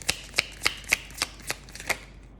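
A deck of oracle cards being shuffled, about eight crisp riffling bursts in a steady rhythm, close and clear with no voices.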